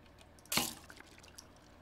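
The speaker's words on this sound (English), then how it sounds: "I'm dropping a bucket of water on my bloody head as I'm running around town" A single wet splash from a bucket of water dropped on a character's head in The Dead Linger video game bursts out loudly, then trails into a few faint drips.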